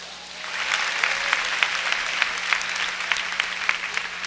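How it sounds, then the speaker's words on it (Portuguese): A church congregation applauds during an evening service, a moderately loud, continuous patter of many hands with sharper individual claps popping out, building in after a brief quieter start. "Aplauda ao Senhor por isto."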